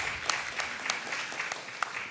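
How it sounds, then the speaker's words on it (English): Audience applause follows a keynote talk at a game developers' event, a short burst of scattered clapping from a crowd, moderately loud and fairly even, with no speech over it. "Yeah, that deserves some applause."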